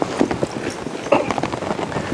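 Hooves clip-clopping in an uneven, steady patter at moderate distance, with a faint background murmur.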